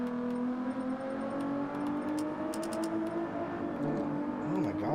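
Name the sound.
Ferrari car engine revving in Gran Turismo 7 video game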